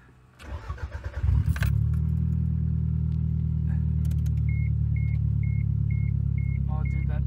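A Toyota Celica ST165 engine cranks with a quick burst of starter pulses, then catches and settles into a loud, steady, rumbling idle after a jump start, with a faint repeating beep and brief voices in the background.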